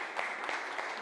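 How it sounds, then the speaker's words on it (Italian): Applause from an audience at a formal civic gathering in a mayor's residence, soft steady clapping heard at a distance. "farei un grande applauso"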